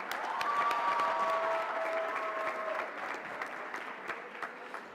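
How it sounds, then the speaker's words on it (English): An audience claps throughout a college convocation ceremony. The applause is dense and steady at moderate distance and fades slightly toward the end. "Give yourself a round of applause, House 1."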